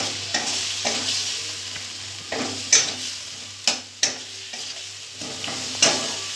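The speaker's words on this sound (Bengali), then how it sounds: "এবার টমেটো দিয়ে আমি ভালো করে এটা মেরে নেব।" Chopped tomato fries in a spice paste for vegetarian mug ghonto, with a steady sizzle and a spoon scraping and clicking against the pan at irregular intervals.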